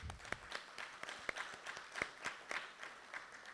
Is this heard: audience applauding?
yes